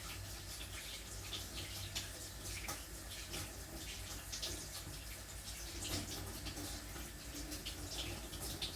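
Tap water runs steadily into a sink while a spatula is washed, a continuous, fairly faint hiss and splash with no speech over it.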